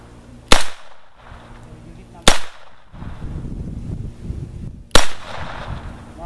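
A Beretta Neos pistol fires three sharp, close shots spaced about two seconds apart, each a loud crack with a short echo tail, with murmured talk in the gaps.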